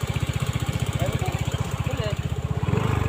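A motorcycle engine runs steadily with a fast, even putter throughout, close by and fairly loud.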